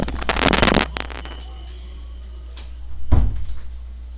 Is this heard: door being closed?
yes